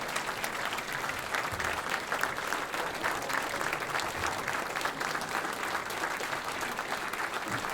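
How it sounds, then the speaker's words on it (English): An audience at an evening gathering at an Elks lodge in Lawrence, Massachusetts gives a Gold Star family a sustained round of dense, steady applause from many hands, filling the room without pause. "let's give a great round of applause to our Gold Star family here this evening"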